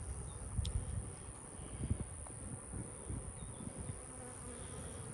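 Constant buzzing of many bees nearby at an open hive in a cow pasture apiary, with a few soft knocks and rustles underneath.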